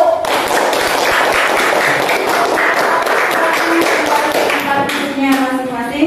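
Classroom applause for a student group, with many hands clapping in a dense, loud burst that goes on throughout, mixed with children's voices and chatter.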